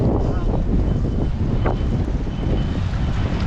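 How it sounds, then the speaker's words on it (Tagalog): Steady, heavy wind buffeting the microphone with a constant low rumble, loud and continuous throughout, with faint voices briefly underneath. "Sikat yung araw pero malakas kasi yung hangin."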